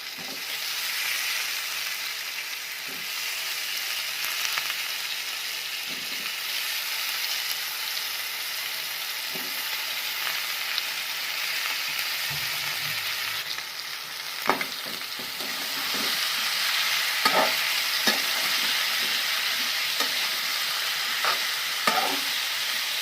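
Finely chopped eggplant with potatoes fries in a large pan for a village wedding vegetable dish, a loud steady sizzle with occasional scraping stirs that grow more frequent toward the end.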